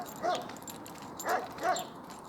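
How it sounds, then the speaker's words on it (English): A dog up the side of the road, kept on a chain, gives three short barks or yips, fairly distant and faint against outdoor background noise. "The dog up the side here is awake, obviously."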